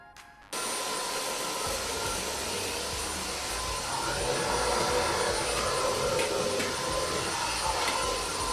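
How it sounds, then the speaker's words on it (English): A Dyson Omni-glide Plus cordless vacuum cleaner in an apartment starts abruptly and then runs with a steady loud whirring roar that holds unchanged throughout, close to the listener. "if you get the Dyson Omni-glide Plus, it comes with this additional really cool light crevice tool"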